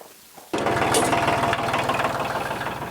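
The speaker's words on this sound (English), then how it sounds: "I got the tractor running." A tractor engine starts up and runs with a steady, rapid low chugging, loud and close, with no talk over it.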